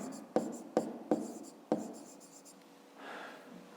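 A pen writing on paper during a fifth-grade maths exercise: four sharp strokes in quick succession, then softer scratching and a faint rub near the close, close and quiet.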